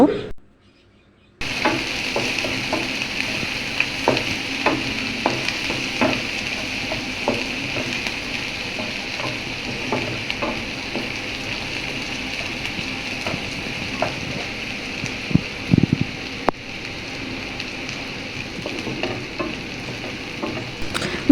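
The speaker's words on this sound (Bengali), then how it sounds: "শুটকি ও পেঁয়াজ আমি ভালো করে ভেজে নেব।" Dried fish and chopped onion fry and sizzle in a pan with oil, a continuous hiss punctuated by repeated scraping and tapping of a spatula as the mixture is stirred steadily, close and alone without talk.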